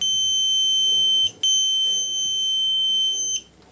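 Electronic beeping from a torque wrench tightening engine bolts on a Mercedes W124 300CE, a steady high tone sounding nearly continuously, briefly breaking off and resuming, with no talk.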